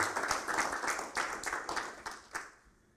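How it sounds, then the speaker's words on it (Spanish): A church congregation gives a short round of applause during a Spanish-language sermon, heard as moderately faint clapping with irregular bursts that taper off toward the end. "Dele un aplauso al Señor."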